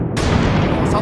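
Gunshot sounds in the Minecraft video game: a loud, dense burst of blasts that fills the short moment, with a voice talking over it.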